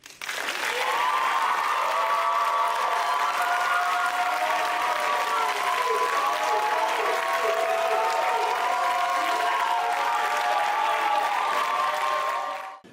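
Audience at a University of Florida student government executive debate applauding and cheering, a dense, steady wall of clapping with whoops that holds for about twelve seconds before cutting off.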